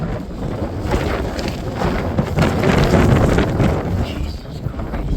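Strong wind buffets the microphone on an exposed ridge in the Roan Mountains, a constant loud roar that swells and eases over several seconds.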